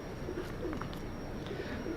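Salara pigeons give soft, low cooing calls in a few short bursts, faint against a steady background hiss.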